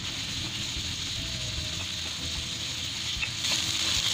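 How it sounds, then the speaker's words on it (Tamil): Onions sauté in a pan for an aloo chicken curry, a dense continuous sizzle with a hiss, close and steady and without distinct stirring strokes. "கொஞ்சம் ஃப்ரை ஆகிற வரையும் வணக்கணும்."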